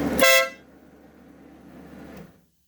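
A compressor-powered air horn fitted to a Yamaha Road Star bagger motorcycle gives one short, loud blast, then a lower steady compressor drone runs on for about two seconds before stopping.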